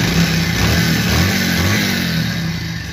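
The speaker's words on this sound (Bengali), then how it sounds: "বাইকের স্মুথ সাউন্ডটা আমি শুনে দিচ্ছি দেখুন" A used Bajaj Pulsar 150cc motorcycle engine runs at a steady, smooth idle, a close and continuous low rumble with no voices over it.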